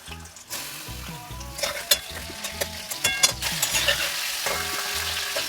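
Pumpkin pieces frying in a pan with salt and turmeric: steady oily sizzle with bursts of crackling and scraping as the pieces are stirred, close and moderately loud, no voices.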